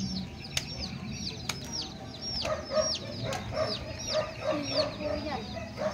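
Chickens cluck and squawk repeatedly nearby at a village fiesta, with sharp bird calls and background chatter mixed in.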